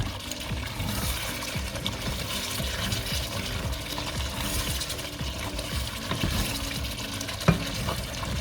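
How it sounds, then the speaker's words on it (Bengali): Duck curry being stirred in a pot on a Bangladeshi home stove, giving a steady low bubbling and scraping texture with soft sizzle throughout and one sharper clink near the end. "জাস্ট 5 মিনিটের মধ্যে একটু নাড়াচাড়া করবো।"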